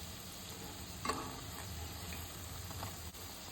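Onion bhaji fritters frying in a pan of oil, a faint, even sizzle with one brief clatter as they are turned over.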